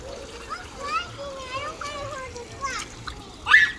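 A backyard kids' splash pad sprinkler fills with water and ends in a sudden splash near the end, while children's high chattering voices carry over the trickle throughout.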